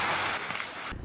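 An armored vehicle's main gun fires during a night live-fire exam in mountainous eastern Guangdong, one loud, close blast with a broad roar that fills the short moment before cutting off.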